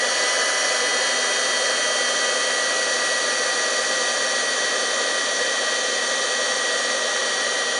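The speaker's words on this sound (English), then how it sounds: "So I'll get my heat gun and get started." A heat gun blows hot air steadily and loudly for the whole stretch, a constant whooshing hiss with an even electric-motor drone and no talk, used on a craft project making iridescent ice butterflies.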